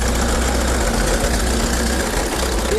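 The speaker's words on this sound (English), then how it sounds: "listen to that, the magnificent, powerful sound of the machinery working in perfect harmony" A vintage Fordson-Putilovets tractor engine runs steadily with a low, thumping rumble and knocking beat, loud and continuous throughout.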